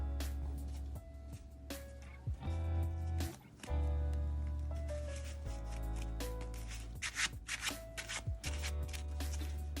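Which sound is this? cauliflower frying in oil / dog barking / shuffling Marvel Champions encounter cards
shuffling Marvel Champions encounter cards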